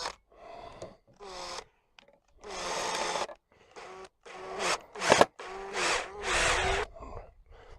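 A cordless drill-driver sets a screw into wood while a polytunnel door is built, in a series of short, loud whirring bursts that rise in pitch, separated by brief pauses, with a sharp clack midway.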